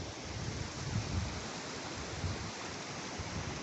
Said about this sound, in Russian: Река течет, Улуздень.